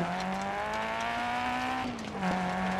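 A Ford Escort Mk2 rally car in DiRT Rally, its engine holding a steady, loud drone at one pitch, then dropping briefly as it shifts and climbing again, with tyre and gravel noise underneath.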